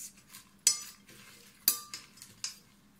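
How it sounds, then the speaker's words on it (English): Salad ingredients being mixed with a spoon in a bowl, a few sharp clinks of the spoon against the dish amid soft shuffling and stirring, close and clear with no talking. "I'm gonna mix them around with my spoon"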